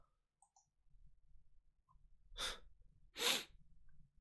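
Two forceful sneezes in quick succession, close and loud, preceded by a sharp intake of breath.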